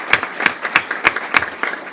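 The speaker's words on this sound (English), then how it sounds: "let's give her a round of applause tonight for being here" A few sharp, evenly spaced hand claps at a school board meeting, about five loud claps in a steady rhythm rather than a full crowd ovation.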